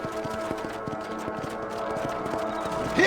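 Steady hoofbeats of a ridden horse in the video game Red Dead Redemption, a regular clip-clop rhythm close up over a low ambient bed, with a faint voice or snort near the end.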